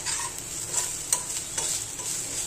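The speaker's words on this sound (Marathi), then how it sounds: "आता ग्रेव्हीचा मसाला चांगला भाजला आहे" Gravy masala of onion and coconut roasts in a pan with a soft steady sizzle, broken by repeated scraping stirs of a spatula, close and fairly quiet with no talking.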